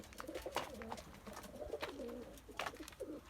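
Pigeons in a fancier's loft coo steadily, their low, throaty calls repeating and overlapping at close range with no voices.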